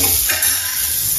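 Dried red chillies dropped into hot oil in a pan for potato kurma, a brief close hiss and crackle with a light stirring scrape, no voices.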